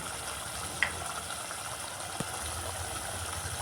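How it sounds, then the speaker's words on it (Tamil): Rinse water from a mixer jar pours into a simmering paruppu urundai kuzhambu with ground coconut, giving a steady, fairly loud wash of gushing liquid with a couple of brief knocks. "மிக்ஸி கழுவின தண்ணி எல்லாத்தையும் இதில் சேர்த்துருக்கேன்"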